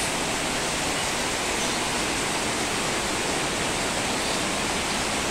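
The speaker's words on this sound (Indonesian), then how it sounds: "Inilah kondisi saat ini, kita lihat dari luar hujannya begitu deras." Heavy rain pouring outside at a site in Bandung, a dense, loud, continuous hiss with no breaks.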